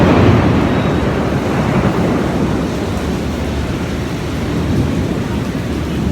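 Heavy rain pours in a New York thunderstorm, a loud, dense roar with rumbling thunder beneath it and no talking.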